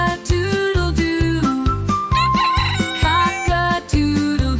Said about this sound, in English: the rooster's calling